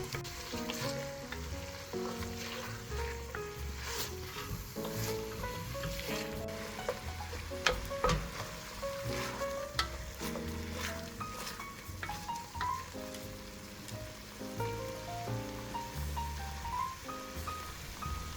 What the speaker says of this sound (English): Continue to break up the sausage while stirring the celery and onion.